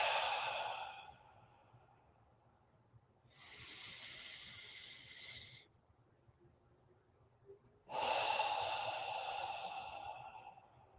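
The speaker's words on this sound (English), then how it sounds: "And just take some deep mountaintop breaths and breathe into that experience" Slow, deep breaths come as long airy inhales and exhales, three of them separated by quiet pauses, close and soft, with no talking.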